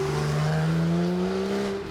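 A 2015 Porsche 911 GTS with its 3.8 litre flat-six boxer engine drones loud and steady, a close sustained engine note with a slowly rising pitch, no talk over it.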